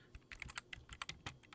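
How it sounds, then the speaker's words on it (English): Quick irregular keystrokes as code is typed on a computer keyboard, close and fairly quiet, clicking in uneven bursts with no talk. "And now we start typing in the code."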